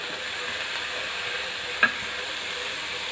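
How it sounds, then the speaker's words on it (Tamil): Chopped carrot and green beans sautéing in a pan, giving a steady close sizzle and hiss with one brief scrape or stir partway through. "நல்லா வதக்கி விட்டுக்கலாம்."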